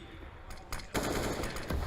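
Rapid gunfire from an AK in Counter-Strike on the Nuke map during a G2 Esports versus Virtus Pro semifinal, a faint burst followed by louder sustained automatic fire.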